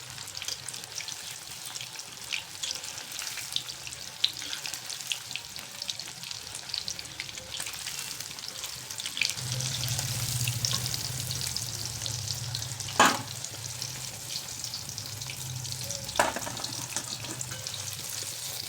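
Cornflour and chilli-powder coated paneer pieces frying crisp in hot oil, a continuous bubbling sizzle with scattered sharp crackles and a low hum rising partway through; no voices.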